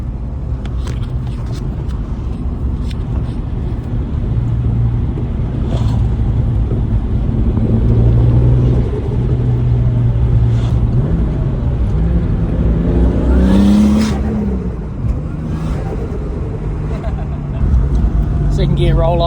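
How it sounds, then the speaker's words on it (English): A turbocharged Holden VL race car pulls hard in second gear, engine droning loud and rising steadily in pitch from inside the cabin, with someone talking over it. "Second gear roll on 40 to the 100 zone"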